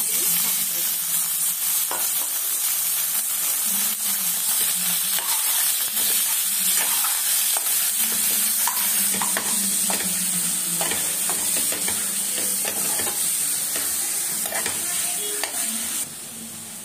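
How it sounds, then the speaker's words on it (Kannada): Chicken pieces fry in oil in a cooker pan for a garlic roast, a loud, unbroken hissing sizzle with irregular scrapes and clinks of stirring heard up close throughout. "ಮೊದಲಿಗೆ ಚಿಕನ್ ಹಾಕ್ಕೊತಾ ಇದ್ದೀನಿ"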